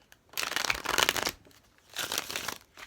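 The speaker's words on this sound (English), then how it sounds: "Let me cut the deck into 3 parts for you guys." A tarot deck riffled and shuffled in two loud, close bursts of rapid papery flutter with a short pause between, no talk.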